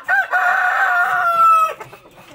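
A Bangkok fighting rooster crows once up close, a loud, drawn-out harmonic call lasting nearly two seconds, followed by a few soft clucks.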